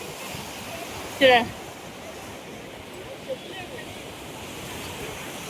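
Sea waves washing onto a beach in Pondicherry, a steady low roar of surf with wind noise on the microphone, while someone speaks briefly near the start.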